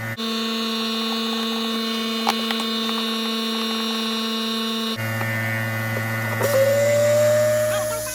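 Steady compressor-like hum with a strong tonal drone while air is blown through the water lines of a 2021 Keystone Cougar fifth-wheel RV during winterizing; the pitch shifts midway and a rising whine appears near the end.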